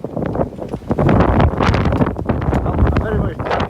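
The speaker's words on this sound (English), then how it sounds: "Real windy." Heavy wind gusts buffet the microphone outdoors on a road trip, a loud low rumbling roar that swells and dips continuously, with a voice briefly heard beneath it.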